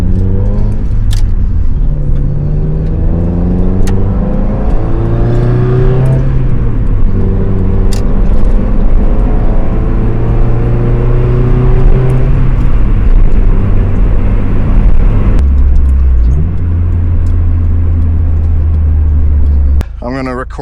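A Mazda Miata engine hums and rises through gear changes while driving, steady and close, with rhythmic pitch climbs and drops as it accelerates.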